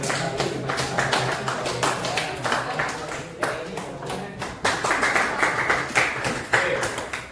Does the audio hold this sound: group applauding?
yes